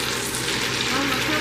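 Meat searing in a hot pan during keto meal prep gives a steady, loud, even sizzle that hisses throughout with no pauses.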